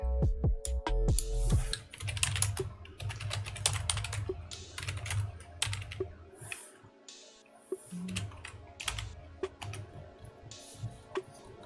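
Rapid typing on a computer keyboard, close and continuous, with dense key clicks in uneven bursts and brief pauses.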